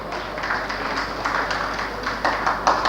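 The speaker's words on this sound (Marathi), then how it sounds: "योगिता मॅडमचं टाळ्या वाजवून स्वागत करावं" An audience at a ceremony honoring meritorious students and artists claps to welcome a guest. The steady crowd clapping is made of many close, overlapping hand strikes, with a few louder claps near the end.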